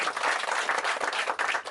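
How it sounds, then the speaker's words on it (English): An audience at the opening of a Da Vinci machines exhibition breaks into close, lively applause, dense overlapping claps sustained for the whole moment with slight swells and dips. "Let's give them a round of applause."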